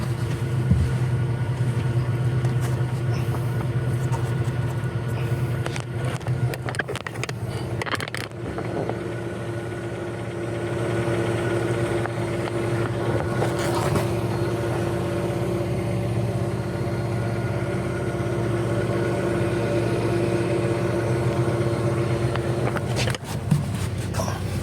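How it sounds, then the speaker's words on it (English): An electric fuel pump running in a Hyundai i30 that cranks but won't start gives a steady, quiet mechanical hum with a low tonal drone, continuous and close throughout, with no talk over it. "That is a really quiet pump."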